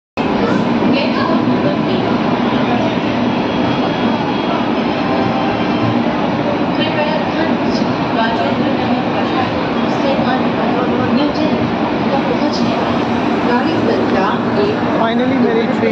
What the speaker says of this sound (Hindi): फाइनली मेरी ट्रेन आ गई